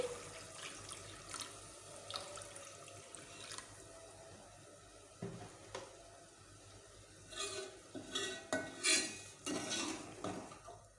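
Water poured from a tap into a pan of egg curry gravy splashes and runs, mixed with clinks of a metal pan and utensils stirring, fairly quiet and close, with no speech.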